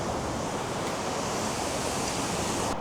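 Waterfall in Iceland, heard as a steady, dense roar of falling water that stays loud and even throughout, with no voices.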